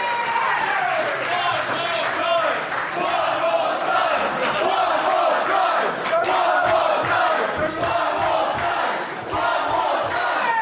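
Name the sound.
wrestling match crowd cheering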